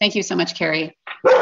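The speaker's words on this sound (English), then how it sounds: "Apologies for my dog." A dog barks in the background of an online panel discussion, with several quick yaps and a whimper heard close and loud, overlapping a voice as she speaks.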